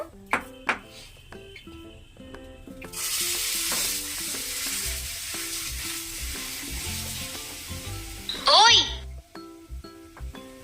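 Batter for Konaseema-style palm fruit rotte hits hot oil in a pan and starts a loud, steady sizzle a few seconds in, with background music throughout and a brief whistling tone near the end.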